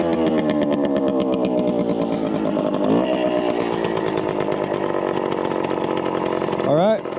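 A 1974 Suzuki TC125 two-stroke motorcycle engine runs loud and close throughout, its buzzy, raspy note holding steady with quick rising rev sweeps partway through and again near the end.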